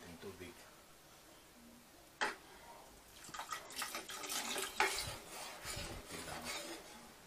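A little water is poured into a pan of budget Filipino-style spaghetti sauce. There are soft splashing and trickling bursts with a few sharp clinks, and quiet talking is heard in the background.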